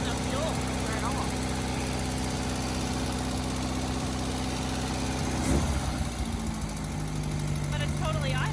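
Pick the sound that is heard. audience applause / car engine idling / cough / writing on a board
car engine idling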